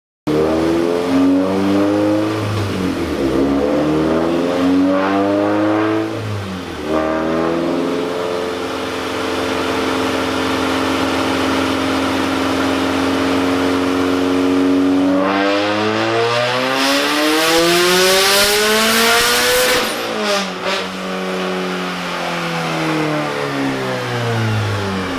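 A Scion FR-S tuned past 300 horsepower runs hard on a dyno, its engine rising through loud, sweeping revs, easing off, then climbing again to a screaming peak before falling away, with no talking.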